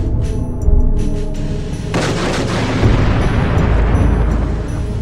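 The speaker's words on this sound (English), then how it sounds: "There was another explosion, and another." Explosions in a bombing scene in a building being demolished, dense rumbling blasts and crackling debris that layer into a loud continuous roar with no speech.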